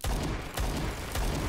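An MP5 submachine gun fired in the Roblox shooter Phantom Forces: a few quick, loud, close bursts of automatic fire with punchy low thumps, no voices over it.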